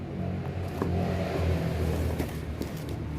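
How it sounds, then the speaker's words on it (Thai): A car rushes past on a nearby road, a broad steady rumble and road noise swelling slightly, loud and close. "เสียงรถ"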